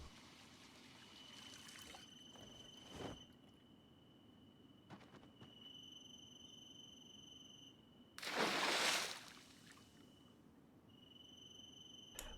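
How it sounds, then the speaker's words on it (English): Water trickles and pours in a video game as lake water is collected, a faucet-like gush swelling loudly for about a second over steady insect-like chirping and faint ambient hum, with softer splashes earlier. "when I get water over a lake, it makes a faucet sound"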